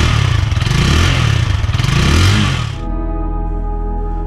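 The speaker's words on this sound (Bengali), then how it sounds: "এই বাইকটা কেমন গর্জন করতে পারে সেটা এবার আপনাদেরকে শুনিয়ে দিচ্ছি।" An H Power CRZ 165 motorcycle engine revs hard and loud up close, rising and falling in a rough, rattling roar, then drops to a steady idle hum with a clear engine tone.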